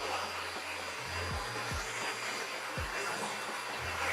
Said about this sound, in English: Then you're gonna take your hair dryer and you're just literally going to blow dry it up.